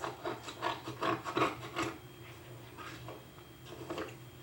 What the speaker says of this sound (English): Cut the newspaper into strips.